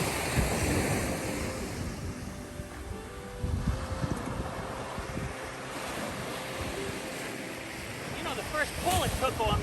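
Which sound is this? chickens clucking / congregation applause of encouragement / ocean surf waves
ocean surf waves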